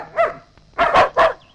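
A dog barks loudly and close by, giving one bark followed after a pause by three more in quick succession, with nothing else sounding over them.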